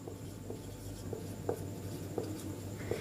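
Pen strokes writing out a definition during a chemistry lesson on crystal lattices: soft, steady scratching with a few sharper taps, quiet and close, with no talk.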